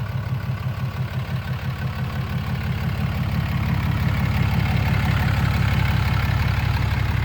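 A 2015 Ram 2500 Cummins diesel 4x4 Bighorn pickup idles close by with a steady, deep, loud rumble and an even low throb that holds unchanged throughout.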